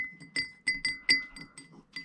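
A homemade crystal clinks sharply against the side of its container about eight times in quick, uneven taps, bright and close.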